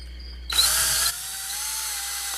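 A power drill bores a pilot hole for a buffered loop pedal box build, a loud whirring burst about half a second long that stops abruptly, leaving a quieter steady hum.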